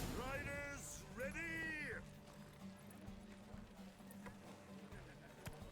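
Galloping horse hooves in a night race in the video game The Witcher 3, a steady clip-clop rhythm under loud, continuous speech.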